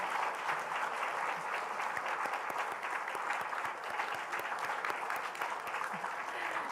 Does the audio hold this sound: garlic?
no